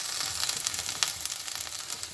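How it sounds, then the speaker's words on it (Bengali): Okra pieces frying in oil in a pan over lowered gas flame, a soft steady sizzle with small crackling pops, fairly quiet and alone. "গ্যাসটাকেও কমিয়ে নিয়ে ভেজে নিচ্ছি।"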